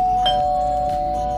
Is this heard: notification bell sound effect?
yes